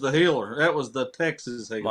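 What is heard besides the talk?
No everyday noise stands out behind the speech.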